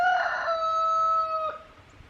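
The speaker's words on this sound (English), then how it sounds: "says the rooster" A rooster crows once, loud and close, in a single drawn-out call that cuts off sharply near the end, followed by a quiet outdoor background.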